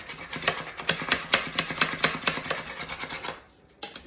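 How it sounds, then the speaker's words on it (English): A spatula mashes cooked potatoes in a soup pot, scraping side to side in a quick regular rhythm of close rasping strokes that stop briefly near the end before one last scrape. "you take your spatula in and you go side to side just like this"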